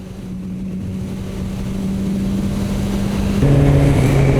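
A Suzuki GSX-R1000R motorcycle engine idling steadily up close, its low hum growing slightly louder before a step up in revs near the end, with no voices.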